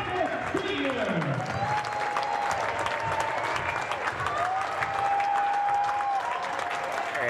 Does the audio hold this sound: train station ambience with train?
no